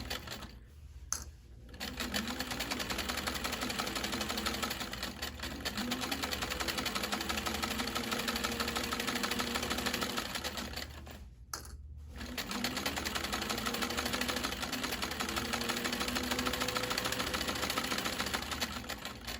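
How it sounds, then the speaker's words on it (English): A brand new sewing machine stitching a quarter inch seam on fabric, a steady fast mechanical whirr that runs for long stretches, pausing briefly twice before starting up again. "This is a brand new machine, so I'm getting used to it. And I'm gonna be doing a 1/4 inch seam here."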